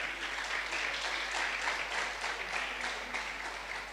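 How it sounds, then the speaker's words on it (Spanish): Applause from a church congregation during a worship service, a steady dense patter of many hands clapping together for the full stretch, fairly quiet and even with no speech over it. "¡Un aplauso!"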